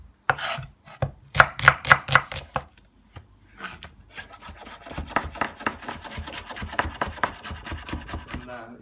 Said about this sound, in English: I'm now going ahead and cutting the onions